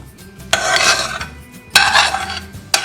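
A spoon mixes onions and carrots into mashed potato in a pot, making loud close scraping strokes broken by three sharp clanks against the side, with no talking.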